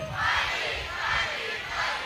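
A crowd of university students at a campus orientation event shouts a loud group reply to a morning greeting, a sustained collective roar that swells and dips in waves.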